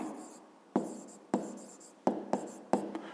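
A pen scratches out a fifth-grade math solution on paper in brisk, close strokes, with sharp taps marking the start of each new stroke and short gaps between them.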